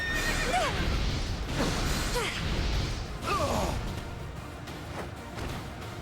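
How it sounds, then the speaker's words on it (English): A horse whinnies in the video game Fire Emblem: Three Houses, several rising and falling neighs over a busy battle backdrop, with hoof clops and whooshes mixed in. "Okay, I was like, why is there neighing?"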